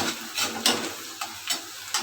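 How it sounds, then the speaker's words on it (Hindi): Garlic frying lightly in a pan while making a ladyfinger (bhindi) dish, with a steady soft sizzle broken by several sharp scraping stirs of the spatula. "अब हमारा लहसुन भून चुका है"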